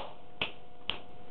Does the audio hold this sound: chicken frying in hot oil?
no